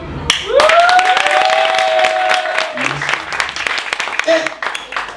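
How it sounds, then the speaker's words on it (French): An audience at a one-man comedy show claps loudly and continuously, with a long piercing whistle and some shouted voices rising over the applause. "Si nous aimons vraiment, ils vont applaudir."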